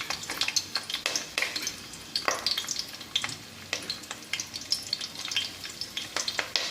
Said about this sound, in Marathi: तर आता कढईमध्ये तेल तापत ठेवलेलं आहे तर मी आता पहिल्यांदा लसूण घालते त्यामध्ये